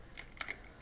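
A few quick keystrokes on a computer keyboard, three faint soft clicks spaced out over under a second, close and quiet in a still room.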